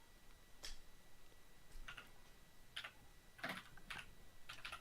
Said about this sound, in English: It sounds like somebody's typing it right now.